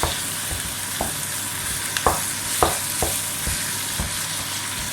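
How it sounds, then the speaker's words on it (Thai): Ground beef is stir-fried in a pan, sizzling steadily while a utensil scrapes and stirs in sharp strokes about every second, close and alone. "ผัดจนเนื้อเริ่มสุกนะคะ"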